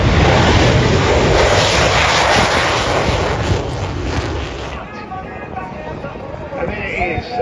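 A Jetstar Airbus A320 airliner lands at the Avalon International Airshow in 2025, a loud broad engine roar that slowly fades as the jet rolls out, with crowd murmur and talk underneath.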